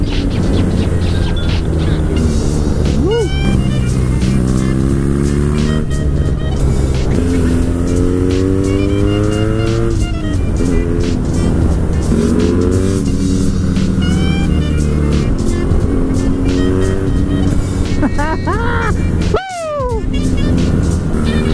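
Cars race along Mulholland Highway with engines revving loudly up and down through the gears, close and roaring, with tire noise and a sharp burst near the end, while people talk over it.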